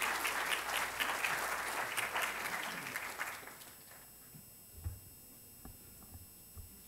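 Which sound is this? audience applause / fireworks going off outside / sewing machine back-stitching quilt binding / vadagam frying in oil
audience applause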